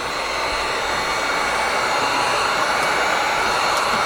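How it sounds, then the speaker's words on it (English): A heat gun blows hot air onto window film while tinting a car's driver-side window, giving a steady, loud broadband whoosh that stays constant throughout with no talking. "grab your heat gun"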